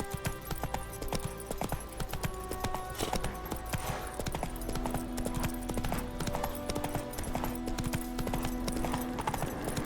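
A horse gallops in a fantasy role-playing video game, its hooves clip-clopping in a rapid, steady rhythm throughout, close and continuous over a low game-music bed.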